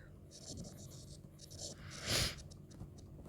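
A pen scratches across paper while maths working is written out during a Hindi-language Class 9 geometry lesson, with soft, close strokes in uneven bursts and one louder swipe near the middle.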